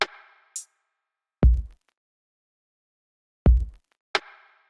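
Drum samples are triggered from Maschine pads: a kick-and-snare pattern with a hi-hat, sparse, punchy isolated hits separated by silence, close and dry with no talking.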